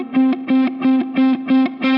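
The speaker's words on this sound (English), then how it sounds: "Like there's a little more distortion, a little more breakup based on how I'm hitting the string" Distorted electric guitar note picked hard six times in a steady rhythm, each hit a sustained, gritty, breaking-up tone with strong harmonics, loud and alone.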